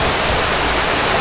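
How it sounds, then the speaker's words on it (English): Small streams of water run across a jungle path near a waterfall in Phuket, Thailand, making a loud, steady, close rush of water with no talking. "lots more little streams running across the pathway"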